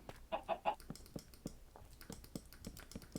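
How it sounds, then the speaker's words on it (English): Chickens cluck in the video game Small World, with a few brief clucks up front and then a steady run of short, sharp clicking pecks, close and fairly quiet, with no talking. "So now we can have the chickens be there when they start hatching."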